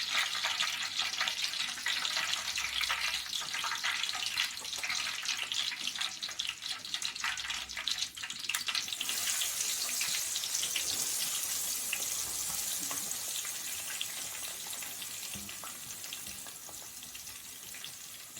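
Mustard seeds splutter in hot oil, making a dense, continuous crackling sizzle nearby that fades slightly over the length of the clip.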